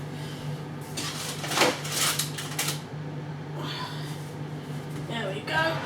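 A tray of mealworms slides into a home oven, bringing metallic clatters and rattles of the tray and rack against the oven, with a person talking over the handling noise.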